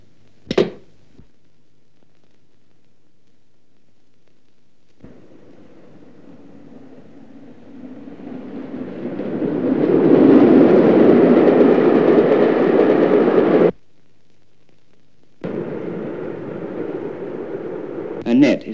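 A 1936 steam mail train approaching, heard as a low rumble that grows from faint to loud over several seconds, cuts out abruptly, then resumes. Sharp percussive hits mark the start and end.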